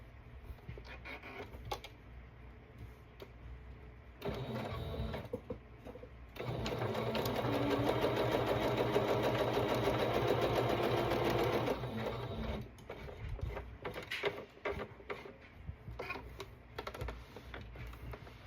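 A domestic sewing machine stitches down a small cherry-print fabric piece in two steady whirring runs, a short burst and then a longer sustained one, with quiet handling clicks between and no talking.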